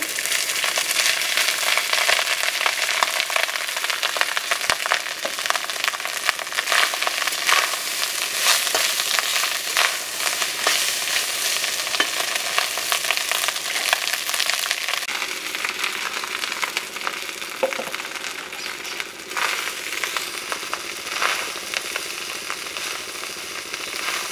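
Whole cumin seeds and rice fry in a pan with a steady, dense crackling sizzle that continues for the whole stretch, close and loud, with occasional stirring scrapes. No talk.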